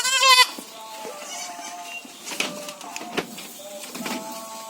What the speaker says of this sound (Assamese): এইটো চাওক ছাগলীটো।